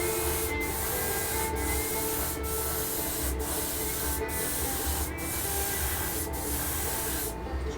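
An airbrush sprays a paint coat onto a 1/48 scale MiG-17F model, a loud continuous hiss broken by brief regular pauses about once a second as the trigger eases off and back on.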